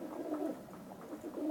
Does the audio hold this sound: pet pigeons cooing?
yes